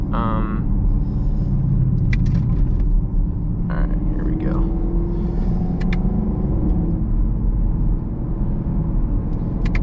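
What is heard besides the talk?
2022 Camaro 2SS 1LE engine and exhaust in track mode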